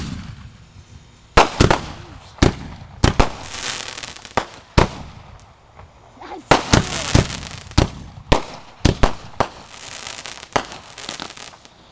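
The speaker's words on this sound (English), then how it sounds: "The fireworks." Fireworks and firecrackers at a Labor Day 2008 backyard show go off in about a dozen sharp, loud bangs and crackling bursts at irregular intervals, with quiet background between them.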